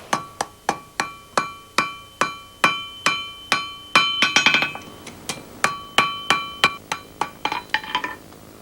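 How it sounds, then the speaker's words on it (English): A blacksmith's hammer strikes metal at a forge in a steady ringing rhythm, each blow clanging with a bright metallic ring, some quicker flurries of lighter taps in between. "One of the ways they used to do it was with a song at the tip of their hammer, an art Bell admires."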